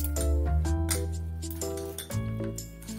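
A spoon clinks repeatedly against a bowl while banana is mixed with egg for pancake batter, a series of bright ringing taps close by with no talk.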